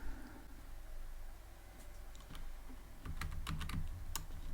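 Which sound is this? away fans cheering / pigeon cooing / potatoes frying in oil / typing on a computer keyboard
typing on a computer keyboard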